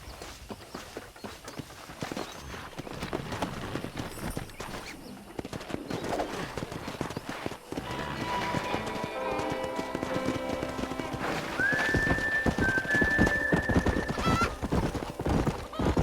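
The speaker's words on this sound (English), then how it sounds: "That ranch hand said there's a pack of wild horses nearby." A pack of wild horses gallops in the Red Dead Redemption game world, with rapid clip-clopping hooves building in volume, a loud neigh rising partway through, and birds chirping faintly in the background.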